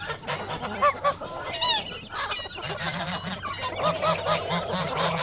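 A flock of Çorum geese honks continuously and loudly up close, calls overlapping in a noisy, busy chorus.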